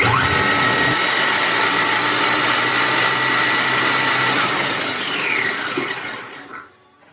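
Kyosho Hellcat RC car motor spun up on a dyno during a power run, a loud rising whine that holds at a high pitch for several seconds, then drops and winds down to near silence.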